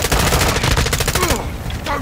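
Fast, loud machine-gun fire in Call of Duty on Ashika Island, a dense rattling burst that cuts off after about a second, followed by quieter shots.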